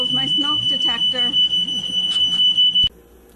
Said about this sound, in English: there goes my smoke detector